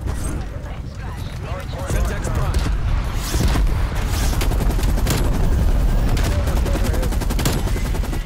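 An RPD light machine gun fires in a first-person shooter on the Nuketown map: loud, dense, rapid bursts that become nearly continuous, mixed with other gunfire and blasts, with someone talking over it.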